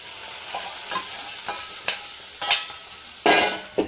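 Egg and ivy gourd curry being stirred in a frying pan, with a steady sizzle under repeated scraping strokes of the spoon, one louder scrape near the end, close up with no talking.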